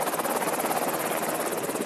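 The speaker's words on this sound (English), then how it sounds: "Braga, a veteran Special Forces commander, took us along on his chopper to see, for the very first time, the spot where it all happened" A military helicopter flies in the Syrian war zone, its rotor thudding steadily and loudly throughout with no talk.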